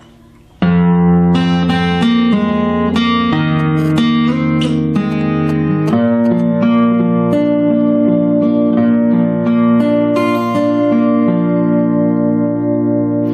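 Fingerstyle acoustic guitar plays the last four bars of a song's verse from Frozen, plucked melody over bass notes in a steady close-up flow after a quiet lead-in, with no talking.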